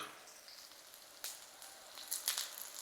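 Chopped bell pepper dropped into a pan of frying onion, giving a soft steady sizzle with a few sharper crackling spikes near the end, fairly quiet and without talk.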